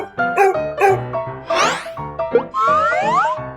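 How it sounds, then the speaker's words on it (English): A dog on a farm gives several bright, playful barks and yips in quick succession, loud and close, mixed with springy sliding boing-like sound effects. "This is a dog."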